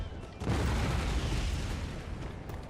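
A deep, rumbling cannon boom from artillery in Total War: Empire, a single heavy blast that rolls on and slowly fades, loud and alone.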